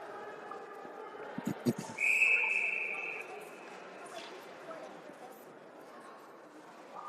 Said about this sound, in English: These refs are quick on the whistle.